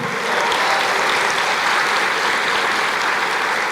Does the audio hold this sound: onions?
no